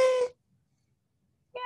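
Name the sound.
golden New Year party noisemaker being blown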